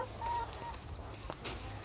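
Chickens cluck softly near a buff Brahma rooster in a backyard run, a short burst of low fowl sounds at moderate distance with no talking.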